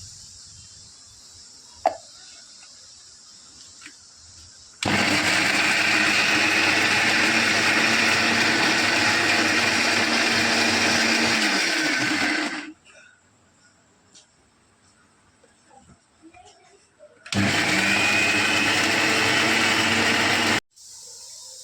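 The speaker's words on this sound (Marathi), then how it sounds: "हे मिश्रण आपण वाटून घेऊया" A mixer grinder grinds a ginger and coconut masala paste for a fish curry, running loud and steady in two long bursts with a quiet pause between them.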